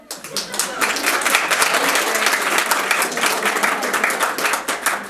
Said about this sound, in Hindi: भाई अपनी बहनों के लिए तालियां बजाएं।